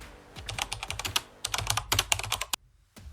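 Rapid bursts of close, crisp keystrokes on a computer keyboard, clattering in uneven runs with short pauses before stopping abruptly near the end.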